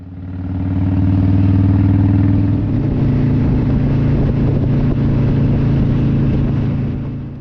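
Motorcycle cruising along a New Zealand highway, its engine a loud, steady mid-pitched drone with wind rush, holding constant throughout with no voices.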